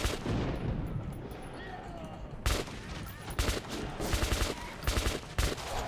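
Gunfire in Metro 2033 Redux, a rapid, loud fusillade of shots in clustered bursts, starting with a dense sustained clatter and then sharp separate volleys close up.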